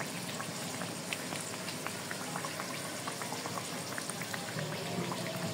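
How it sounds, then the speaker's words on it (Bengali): Aloo puris deep-fry in hot oil one at a time, producing a soft continuous bubbling and fine crackling fizz at low level, steady and alone throughout. "একটা একটা করে ভেজে নিচ্ছি আমি।"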